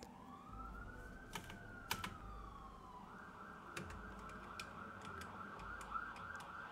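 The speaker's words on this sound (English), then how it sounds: "Thank you, police car." A police car siren wails past in its rising and falling tone, fairly faint, overlaid by sharp clicking sounds such as typing.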